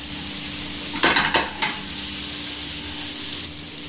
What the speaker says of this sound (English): We're going to melt about 3 or 4 tablespoons of butter.